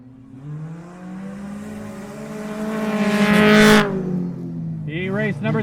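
Race cars in a short-track heat race at the Old Milwaukee 30, engines droning and swelling into a loud pass before the pitch drops away, with an announcer's voice coming in near the end.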